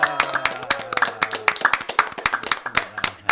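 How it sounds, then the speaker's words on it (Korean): A small studio audience claps on a talk show, sharp individual hand claps in an uneven burst with voices talking over them. "박수의 갈채가"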